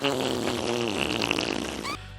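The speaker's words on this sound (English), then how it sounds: "a good old nasty fart that adds fucking nothing to the episode" Cartoon character Fanboy lets out a long, loud, wet-sounding fart lasting about two seconds, rising and sputtering before cutting off abruptly.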